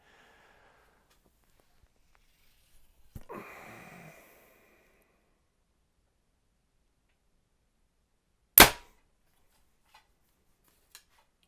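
A compound bow fires an arrow during a mid-priced bow test: a brief rustle and draw noise early on, then one sharp, loud release crack standing alone, followed by a couple of faint ticks.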